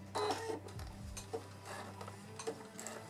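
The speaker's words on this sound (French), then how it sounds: "et j'assemble en suivant la piqûre de ma poche" A sewing machine stitching along an old jeans pocket, giving a close, quiet mechanical whir with rapid ticking, a clunk near the start and some handling noise, with no talking.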